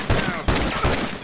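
Video game gunfire in several sharp, loud bursts, with rapid shots clustering near the start, the middle and the end of a short stretch.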